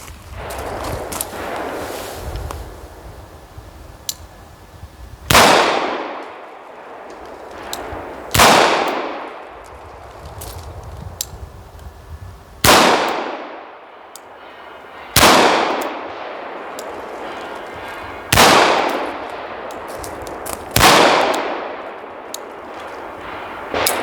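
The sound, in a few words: Colt Python revolver firing .357 rounds at a range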